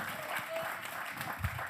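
Audience applause at a poetry slam, steady clapping that stays moderately loud across nearly two seconds, with a brief voice near the end.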